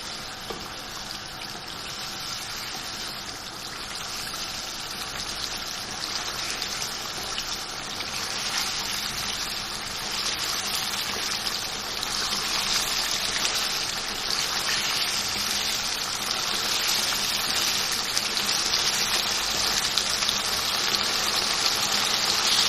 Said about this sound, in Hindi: अब इसको 2-3 मिनट में इसकी भुनाई करूँगी।